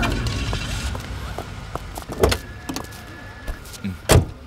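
A car engine runs steadily with a rising whine partway through, punctuated by a few sharp clunks from the vehicle, heard up close with a quiet murmur of voices.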